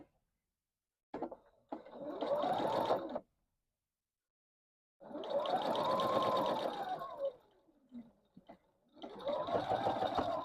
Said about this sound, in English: I'm going to sew the bottom half of the heart together